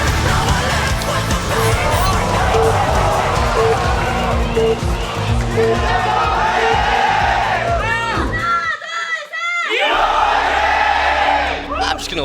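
A packed crowd at a StarCraft league semifinal roars and cheers loudly and continuously, with whoops and shouts rising and falling, briefly dipping before surging again.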